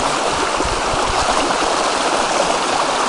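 A small headwater stream in the forest rushes and splashes steadily, loud and close, with a constant broadband flow and no voices.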